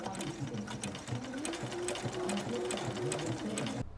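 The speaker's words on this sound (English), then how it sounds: "now it is time to actually sew this bag together" A sewing machine stitches the side seams of a fabric bag in a fast, steady mechanical rattle, close and continuous, stopping abruptly at the end.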